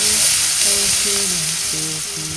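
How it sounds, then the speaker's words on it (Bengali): Chopped onion fries in hot oil in a village kitchen, giving a steady, loud sizzle with occasional stirring, while soft tonal sounds drift through the background. No talk is heard. "তেলও গরম হয়ে গেছে পেঁয়াজ কুচি দিয়ে দিলাম একটু নেড়ে চেড়ে নেবো"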